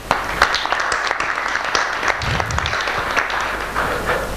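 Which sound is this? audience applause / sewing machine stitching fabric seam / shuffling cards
audience applause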